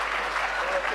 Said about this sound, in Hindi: एक बार जोरदार तालियों से मुझे हौसला दें।